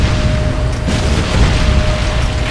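GDI power plant exploding in the game Renegade, a loud sustained booming rumble with dense low-end crackle that holds steady for about two and a half seconds, with no talk.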